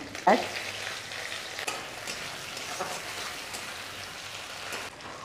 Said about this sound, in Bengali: শুটকি মাছগুলো দিয়ে দেবো, ভালো করে ভেজে নেবো